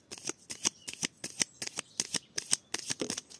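Tarot cards are handled and shuffled up close, a rapid, steady run of crisp riffling slaps and flicks repeating about every quarter second, with no voice over them.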